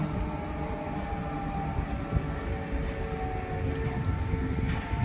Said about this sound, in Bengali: ট্রেন আসছে যাচ্ছে।